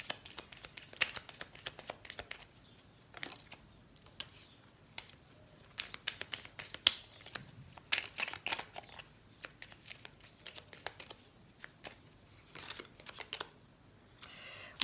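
Tarot cards are shuffled by hand for a final draw, giving soft, close riffling and slapping bursts that repeat irregularly over several seconds without speech.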